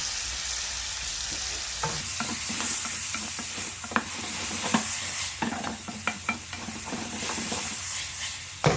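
Bamboo shoots stir-fried with rice wine and soy sauce in a pan, a steady sizzle broken by repeated scraping and clacking of a utensil against the pan, close and clear with no talking.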